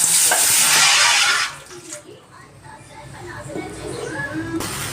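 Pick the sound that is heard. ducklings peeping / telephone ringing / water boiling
water boiling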